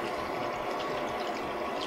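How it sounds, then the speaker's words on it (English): Teriyaki sauce and water pour steadily over beef in a pan, a continuous close splashing, gurgling wash with no break and no talking. "Okay, so you just pour the teriyaki sauce and water"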